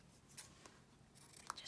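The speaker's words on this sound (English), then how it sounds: "so I'll use my big scissors." Large scissors cut designer paper for a handmade card, giving a few quick, light snips and crisp cutting clicks over a quiet room, with no talking.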